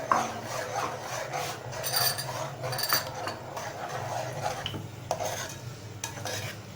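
A spoon stirs sugar syrup into semolina halwa in a pan. It makes close, continuous scraping and rubbing with a wet, rhythmic sound and a faint sizzle underneath.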